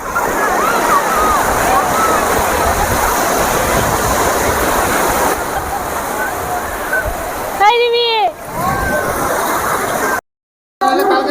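Big sea waves roll in at Puri beach, a broad, steady wash of surf that fills the scene and stays loud and near throughout, broken briefly by a short burst of other sound and a moment of silence near the end.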